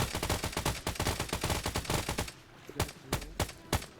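Rapid bursts of gunfire from enemies in a video game rattle in a dense, fast automatic stream, then thin out into a few spaced, sharp shots, loud and with no talk.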